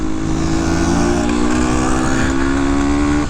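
Restored, carbureted 1971 Yamaha RT1 360 enduro motorcycle accelerating hard on a paved road, its engine note loud, close and continuous, pulling steadily upward in pitch for a few seconds.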